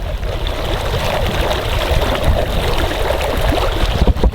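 Water is churned continuously by a homemade ice eater running about five inches underwater, making a loud, steady rushing and gurgling wash with no pauses.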